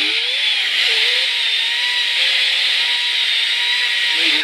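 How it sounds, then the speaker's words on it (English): Continuous high, harsh whine of a die grinder with a tungsten cutter deburring the cut end coil of an air rifle spring, close and steady with slight pitch wobbles as the cutter moves around the coil. "I'm just going to put that in there and I'm going to deburr the end coil."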